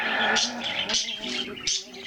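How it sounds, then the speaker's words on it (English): Birds chirp and whistle in quick overlapping phrases, fairly close and clear, with a continuous bright chatter. "it's actually probably chortling, chirping, cheeping, whistling"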